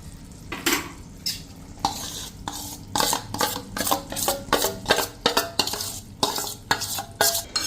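A spoon scrapes and stirs a ghee and gram flour mixture in a pan over medium flame while making besan mesub, giving repeated rhythmic scraping strokes over a soft sizzle, close and fairly loud.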